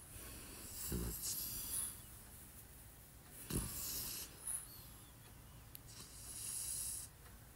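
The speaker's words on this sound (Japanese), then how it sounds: "いびきがすごいぞ。" A French bulldog snores while lying close by, giving loud rasping snorts at irregular intervals with softer wheezy breathing between them. No one speaks.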